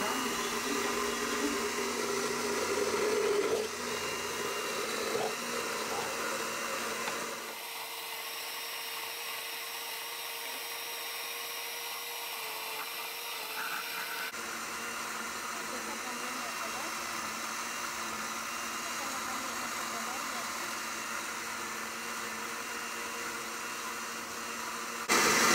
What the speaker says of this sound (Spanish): Voy a agregarle 3 tazas de caldo con la licuadora prendida para que mezcle